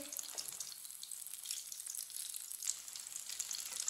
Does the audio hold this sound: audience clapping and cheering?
no